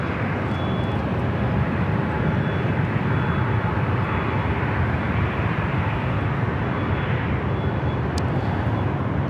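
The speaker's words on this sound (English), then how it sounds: "Avianca A320 going to be rolling down to 24 left" An Avianca Airbus A320 airliner rolls down runway 24 left at LAX, a loud, steady roar of jet engines filling the whole stretch without pause, close and continuous with no talk.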